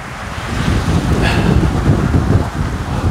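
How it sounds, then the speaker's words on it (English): Steady wind blowing outdoors on a cold winter day, around 12 to 13 degrees with gusts near 15 mph, a continuous loud low rumble of buffeting air against the microphone throughout. "And the wind is still probably a good 10 mile an hour."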